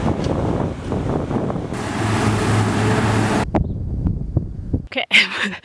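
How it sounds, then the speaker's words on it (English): Strong wind buffets the microphone outdoors at the start of a hike in Morocco, a loud, steady rushing roar that fills the first seconds and then drops away, with a voice talking over it. "there's a lot of wind"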